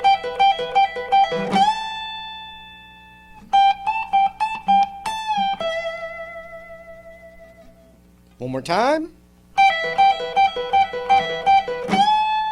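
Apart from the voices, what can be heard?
Electric guitar lick in E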